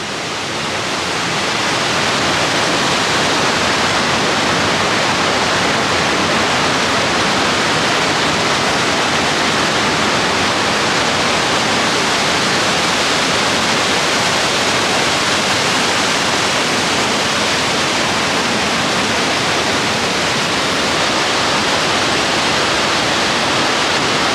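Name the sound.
waterfall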